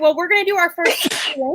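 One loud, close sneeze bursts out between stretches of a person talking.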